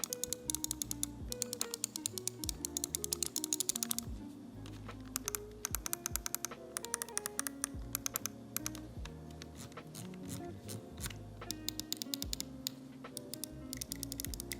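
Sharp, rapid clicks from the Omron switches of a Cooler Master MM711 lightweight gaming mouse, pressed in steady bursts, close and dry with no talking.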